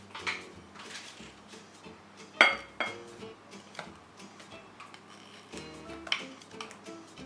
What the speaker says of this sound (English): And whisk it all together.